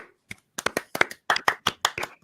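A small group clapping in an uneven, scattered burst, about a dozen sharp claps spread over two seconds, close by.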